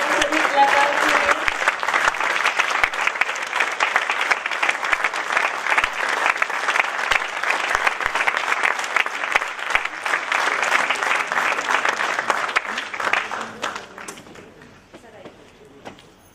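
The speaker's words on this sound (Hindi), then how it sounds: "जोरदार तालियां हमारे सभी कलाकार के लिए" Sustained, loud audience applause for the cast after a stage performance of the Hindi play Sinhasan Khali Hai in Lucknow, dense clapping throughout before tapering off into scattered claps near the end.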